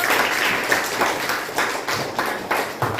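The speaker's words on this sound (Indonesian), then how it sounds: "tepuk tangan buat Aldino" Children in a classroom give a short round of applause, their uneven claps pulsing in quick bursts for a few seconds with faint voices underneath.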